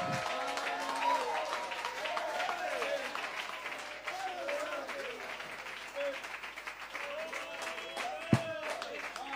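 Church congregation clapping and shouting praise, a loud, continuous crowd roar with applause and many raised voices mixed together.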